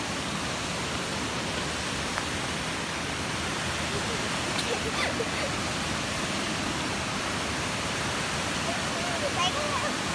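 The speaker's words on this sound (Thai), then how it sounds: "นี่นะคะน้ำตกแล้วนะคะ" Mae Sa Waterfall in Mae Rim rushes with a constant broadband roar of falling water, loud and close, while someone talks over it now and then.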